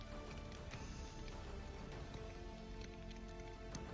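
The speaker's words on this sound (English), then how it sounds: "as you can hear, it's raining" Steady rain patters on the Arizona Trail with scattered drops tapping on a surface, a constant soft wash of noise without any voices.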